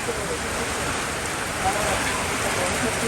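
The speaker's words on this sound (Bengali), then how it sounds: "এটা এটাই ঝুম বৃষ্টি" Heavy downpour with wind, a steady dense broadband roar of rain lasting throughout at constant loudness, with no other distinct sounds standing out.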